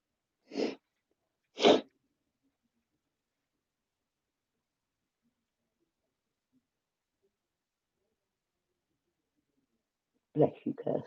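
Two sharp sneezes from a woman, close and fairly loud about a second apart, followed by long silence and then brief speech.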